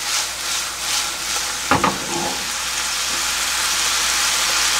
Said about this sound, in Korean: 이렇게 조금 끓여줘야지 윤기가 나거든요